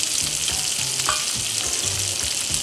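Shrimp and shiitake mushrooms frying in a hot pan, a constant bright sizzle with soft scraping strokes as they are moved around.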